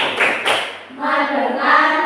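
Students in a classroom clap a rhythmic focus clap pattern, a few sharp claps in sequence, followed by a group chanting along.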